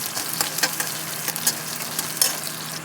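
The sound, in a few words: chopped onion frying in oil with spices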